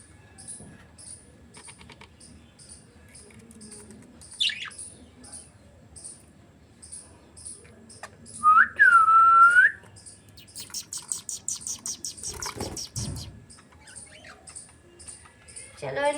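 Pet budgies chirp and twitter intermittently in a quiet room, with one brief louder warble and a burst of faster chattering later.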